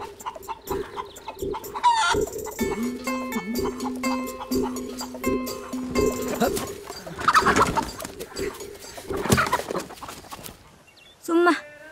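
Chickens cluck and a rooster calls among birds nearby, with a person speaking intermittently in the background.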